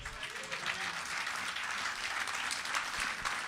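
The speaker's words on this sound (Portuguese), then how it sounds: "Vocês estão aplaudindo a pessoa errada." Audience applause at a televised debate, a steady dense clatter of many hands clapping throughout, loud and continuous with no break.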